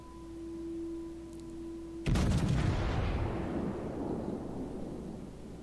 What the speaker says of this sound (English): Okay, there it is. First salvo.